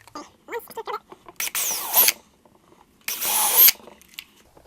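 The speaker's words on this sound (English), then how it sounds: "so we can pre-drill for some screws." A power drill whirs in two short bursts, each about half a second to a second long, pre-drilling screw holes for a kayak battery box, with quiet handling clicks and faint murmuring between them.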